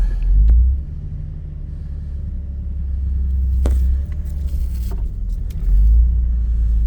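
A 1951 Kaiser engine idles with a deep, steady rumble, swelling louder a couple of times as it is revved, with a few faint clicks and knocks.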